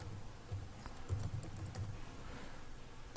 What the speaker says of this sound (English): type the password